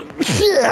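A single sharp sneeze bursts out close by, followed by a short voiced exclamation.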